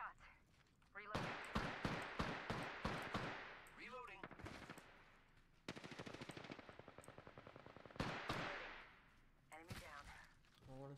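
Rapid automatic gunfire in Apex Legends comes in loud repeated bursts and rattling volleys, broken by short pauses. Sharp single shots and a player's voice talking come in between the bursts.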